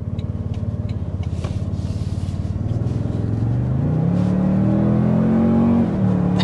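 A 2024 Toyota Tundra Capstone pickup with the iForce Max powertrain accelerates hard up to 60 mph. A steady engine drone climbs in pitch, grows louder and holds a strong, smooth pull throughout, with no voices.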